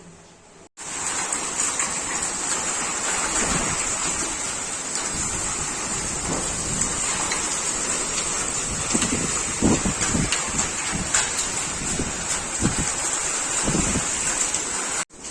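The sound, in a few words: heavy rain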